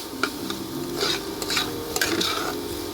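A spatula scrapes and stirs fried snake gourd with turmeric around a pan, giving repeated rasping strokes over a faint sizzle.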